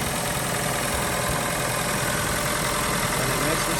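Chevy Cruze engine idling smoothly after a valve cover and PCV valve replacement, a steady even hum with a faint rhythmic tick, constant and close throughout.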